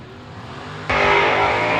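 A 1980 Malibu and a 1967 Camaro launch at a drag strip: a steady engine drone suddenly jumps into a loud, harsh full-throttle roar that holds for the rest of the moment.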